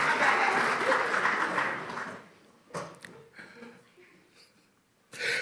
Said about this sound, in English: Now you can clap for Lawrence Ross.